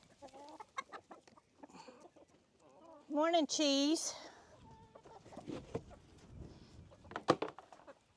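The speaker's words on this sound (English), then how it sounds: "y'all get to watch some chickens eat scratch for a minute" Chickens cluck and call while pecking at scratch grain, with a burst of louder hen squawks midway and scattered softer clucks throughout. A person speaks briefly near the birds.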